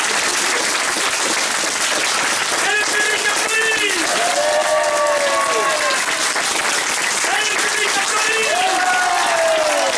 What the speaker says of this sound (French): le public peut applaudir les frères